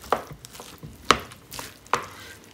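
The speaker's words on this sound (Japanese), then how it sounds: "ご飯を潰さないようにこのように切ります。" A rice paddle cuts and folds through cooked sushi rice in a bowl, giving three soft, separate scraping taps spaced about a second apart, close and quiet, with no talk.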